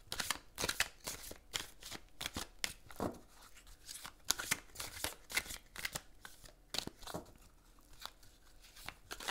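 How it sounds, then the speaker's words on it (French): A deck of tarot cards is shuffled by hand in a series of rapid, papery riffles and flicks. The bursts come one after another, close up and crisp, with no talk. "Je vais donc battre les cartes."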